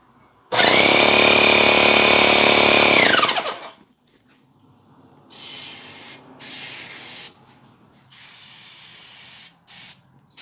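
Compressed air switched on for a leak test on a welded tank, a loud steady hiss for about three seconds that cuts off, followed by quieter intermittent bursts of air hiss.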